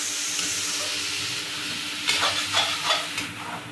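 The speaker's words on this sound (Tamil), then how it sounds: "நல்லா கிண்டு, தீ பிடிக்காம பார்த்துக்கோ. இதை நல்லா வதக்கிக்கணும், ஓகேவா?" Paneer gravy sizzles and sautés in a pan, a steady close frying hiss that later gains several scraping stirs from a spoon, with no voices.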